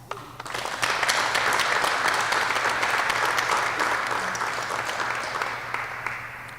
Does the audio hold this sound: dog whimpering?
no